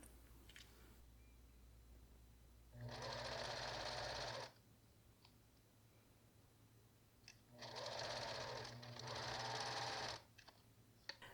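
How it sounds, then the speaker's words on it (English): A sewing machine stitches a camper van bed cushion in two steady bursts, one of about one and a half seconds and a longer one of nearly three seconds, close and fairly loud against a quiet room. "I have about 4 inches worth of thread on the bobbin. But it should be just enough to finish the job."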